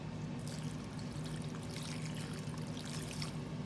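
Water poured into a pot of Filipino beef nilaga on the stove, a steady splashing trickle that runs continuously at moderate level with no talking.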